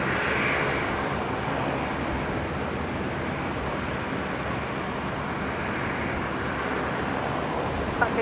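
A jet aircraft rolling for departure off runway 01 right at Brisbane Airport, a steady broad engine roar heard from a distance, unchanging and moderately faint with no talking.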